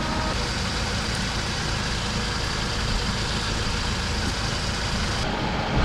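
A car engine idles steadily while a portable air pump charges, a constant low rumble with wind noise, close and unbroken throughout, no talking.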